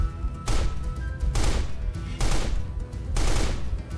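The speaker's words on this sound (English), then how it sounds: "its gun sound effects from Call of Duty" Video game gunfire styled after Call of Duty: four loud, sharp bursts of rapid automatic shots, each lasting about half a second, evenly spaced and close, with no talk over them.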